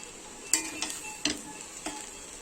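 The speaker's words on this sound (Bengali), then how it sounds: "পাস্তা মশলাটা আমি দিয়ে দিলাম। দিয়ে নাড়াচাড়া করে নামিয়ে নেব।" Egg potato pasta with pasta masala stirred in a pan, a soft low sizzle punctuated by four distinct metallic clinks of a spoon against the pan, quiet and close.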